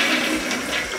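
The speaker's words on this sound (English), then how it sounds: "So I'm going to flush the toilet." A household toilet flushing after being cleaned, a steady close rush of water running unbroken for the whole second with no voices over it.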